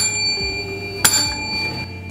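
A single bright bell ding sounds partway through, close and brief, ringing over a faint steady background with no speech.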